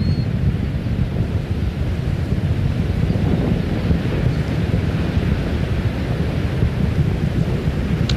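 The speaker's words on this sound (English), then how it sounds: "Three engines on board, back at full throttle." Space Shuttle Atlantis climbing on its three main engines about a minute after liftoff on the STS-110 launch, a steady deep rumbling roar with a noisy wind-like hiss throughout, unbroken and without voices.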